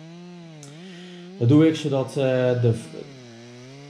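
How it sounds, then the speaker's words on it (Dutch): A saw runs steadily as a climber cuts a large spruce trunk in Voorburg, a sustained, droning engine tone throughout while someone speaks briefly over it. "ik zaag iets door de breuklijst aan de onderkant"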